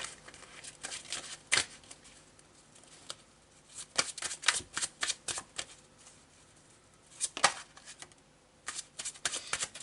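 A deck of Marseille tarot cards is shuffled by hand in close, fairly quiet bursts of riffling and flicking, separated by short pauses.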